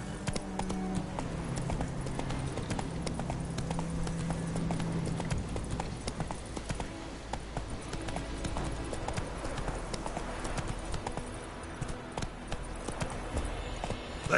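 Roach the horse in a PS4 video game trots along, hooves clip-clopping in a steady, continuous rhythm from start to finish over a faint game background.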